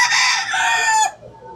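A gamecock bullstag gives a single loud, close crow lasting about a second, which trails off into quieter background.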